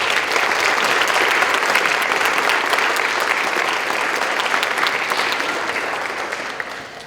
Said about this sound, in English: Let's take a moment and offer a round of applause to those in your life that inspired you through this difficult challenge.